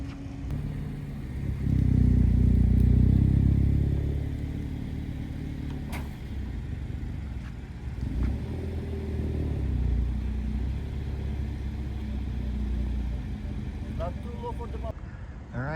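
A 2025 Hyundai Elantra N is loaded onto a car transporter, with a low engine rumble swelling early, then steady idling and vehicle noise continuing at moderate distance.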